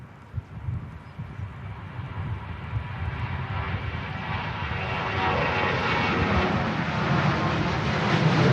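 Ryanair jet at Manchester Airport spooling up for departure to Oslo, a broad engine roar that swells steadily louder with a rising high whine, heard alone at close range.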